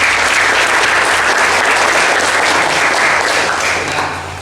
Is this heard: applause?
yes